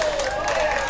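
Watchdog fans applauding after a punt in a high school football game against Winner, a dense, steady wash of clapping from a crowd throughout.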